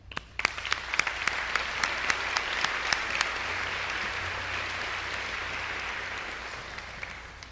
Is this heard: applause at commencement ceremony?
yes